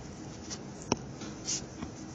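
A marker scratches across a classroom board during a chemistry lesson on acid-base titrations, a few short faint strokes with one sharper tap, alone in a quiet room.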